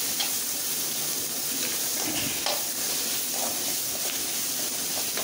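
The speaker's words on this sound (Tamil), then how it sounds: "நம்ம கொஞ்சம் உப்பு போட்டு வெங்காயத்தை கொஞ்சம் வதக்கணும்" Sliced onions fry with salt in a pan for a Tamil dried-anchovy thokku, a steady close sizzle with occasional stirring scrapes and no talking.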